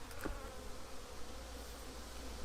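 A steady, dense buzzing of many honeybees at a hive fills the air continuously, close and moderately loud, with no voices.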